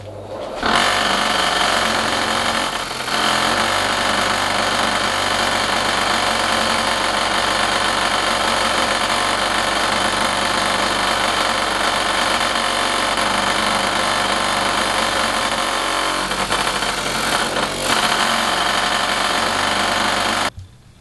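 A power tool polishing a metal toolbox corner runs with a steady high-pitched motorized whine for about twenty seconds, loud and close, with slight shifts in load as the piece is worked, then cuts off at the end.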